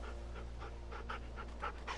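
A dog in The Walking Dead video game pants in quick, rhythmic breaths, close and fairly soft, over a steady low background hum with no talking.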